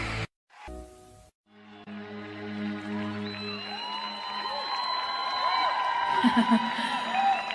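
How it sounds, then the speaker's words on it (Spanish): A crowd at a Christian music concert claps, cheers and whoops, the noise swelling steadily from a quiet start into loud, sustained applause with bright shouts near the end. "Ese aplauso."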